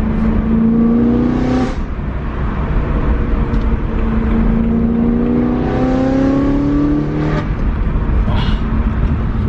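E92 BMW 335 revving and accelerating, a close, loud engine note climbing in pitch twice, with a shift in between and a brief pause in the middle.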